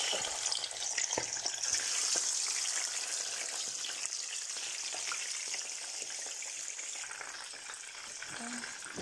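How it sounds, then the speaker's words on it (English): Fish sizzling in hot oil, a steady close crackle and hiss with occasional pops, no talking. "I have to start frying the fish"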